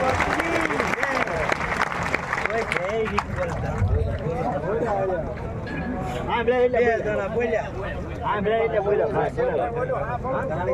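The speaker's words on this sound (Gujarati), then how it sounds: "બધાને વિનંતી કે આપણે સૌ તાળીઓથી એમનું સ્વાગત કરીએ" An audience applauding to welcome the saint Rishi Bharti Bapu at a community gathering, a dense crowd clapping with babble and a voice speaking over it.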